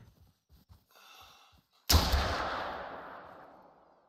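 A single loud revolver shot in the hunting video game The Hunter: Call of the Wild, a sharp crack followed by a long decaying echo across open terrain, preceded by quiet ambient rustling.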